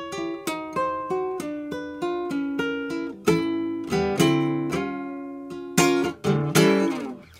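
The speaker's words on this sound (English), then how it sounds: "I'm going to teach you a very simple little blues lick." A simple blues lick on guitar, with a run of plucked single notes and bends in an uneven phrasing rhythm, played close and clear with no talking.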